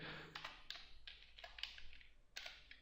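Keystrokes on a computer keyboard while writing Java code, quiet, close-up clicks arriving in short irregular bursts with brief pauses between.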